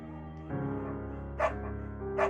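A beagle puppy named Bucket in the video game Firewatch gives two short barks about a second apart, close and clear over a steady tonal music bed.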